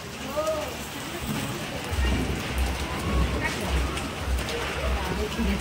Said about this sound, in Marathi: लक्ष्मी पूजनच्या दिवशी पाऊस बघा किती आहे